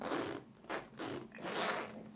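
A worn clothing zipper being repaired is slid back and forth in about four short, raspy bursts with brief pauses between them, close and fairly quiet.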